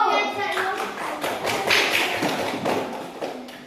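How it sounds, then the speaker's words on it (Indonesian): A short burst of clapping from several people, brisk and uneven, with voices chattering over it. "tepuk tangan untuk Gilang dulu."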